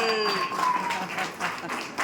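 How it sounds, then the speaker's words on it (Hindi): Audience at a direct-selling training session in Chaibasa claps, a dense steady patter of applause mixed with some voices and a lingering tonal ring, moderately loud throughout. "हाँ जबरदस्त ताली हो जाए"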